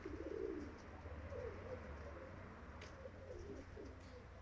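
Soft pigeon coos repeat faintly in a quiet outdoor space, low murmuring calls with a few distant chirps.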